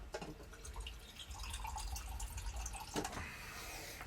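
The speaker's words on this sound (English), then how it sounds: "I'm just going to put a little bit of water in the bottom." A little water poured from a faucet or vessel into the bottom of a container, a steady close trickle and drip with a few splashy bursts, no talk.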